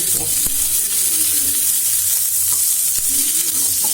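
Pumpkin pieces frying in a pan for roasted pumpkin soup give a steady, loud sizzle throughout, with a few soft utensil knocks and scrapes along the way.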